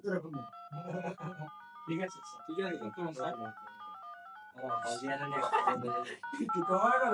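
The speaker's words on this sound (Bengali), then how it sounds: "রিংটোন তো পাইলাম" A mobile phone's ringtone plays during a speaker repair test on the handset, a steady melodic run of electronic tones sounding beneath continuous nearby talk, with other toy-like noises from a festival fair in the background.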